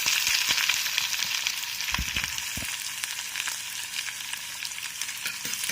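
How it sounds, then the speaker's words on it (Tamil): Green chillies and onions fry in hot oil in a pan, a loud, dense crackling sizzle running throughout, with occasional scrapes and knocks of stirring near the start. "அது நல்லா பொரிஞ்சு வந்ததும் நம்ம வச்சுருக்க வெங்காயம் போட்டுக்கலாம்."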